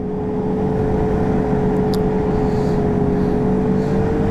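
A stock Ski-Doo 900R snowmobile engine runs at a steady idle-like drone, close and continuous with a constant tonal hum, a faint higher whine briefly rising midway.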